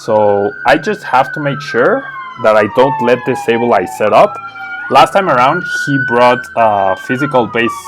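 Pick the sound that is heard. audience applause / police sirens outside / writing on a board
police sirens outside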